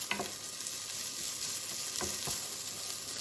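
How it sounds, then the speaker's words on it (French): Risotto being stirred in a hot pan, a constant close sizzle with a couple of spoon scrapes cutting through, and no talking. "Voilà, vous mélangez bien."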